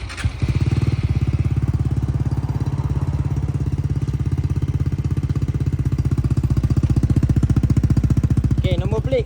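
An Aveta Nova 250 motorcycle fitted with a custom S-Flow exhaust runs steadily close by with a loud, continuous throbbing pulse, the engine note holding even and strong throughout.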